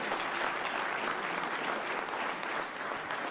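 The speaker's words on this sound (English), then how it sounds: "Give that a round of applause, please." An audience at a Philadelphia mayoral press event on a Center City 76ers arena breaks into applause, with a continuous wash of many hands clapping at an even level throughout.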